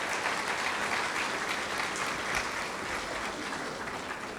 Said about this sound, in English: Please give another warm Sarasota welcome and applause for these great musicians.